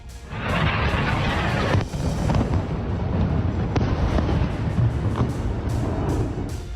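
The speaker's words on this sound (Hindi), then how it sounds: "उत्तरी इजराइल के हाइफा, अफूला, नजरत और दूसरे शहर रॉकेट हमलों की गूंज से थर्रा रहे हैं।" Rocket attack explosions over northern Israeli cities such as Haifa, Afula and Nazareth, a loud, continuous rumbling barrage with a few sharper blasts and cracks standing out against the steady roar.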